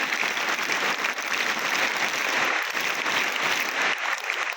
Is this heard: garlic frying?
no